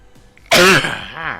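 A single loud, close sneeze from a person playing a city-building game, bursting out suddenly after a quiet moment and trailing off with a voiced tail.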